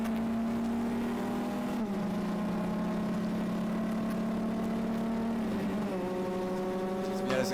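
An Apex V2R race car engine pulls hard down the straightaway at Calabogie Motorsport Park during a Lucky Dog Racing event. The steady, loud drone holds near and even, with one brief pitch dip midway as if shifting, and ends rising slightly.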